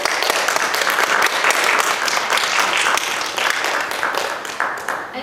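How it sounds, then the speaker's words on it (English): Sustained audience applause for runway models at a budget Lolita fashion show during a 2017 convention, dense and steady throughout, fading slightly near the end. "I'd like a round of applause for my models here."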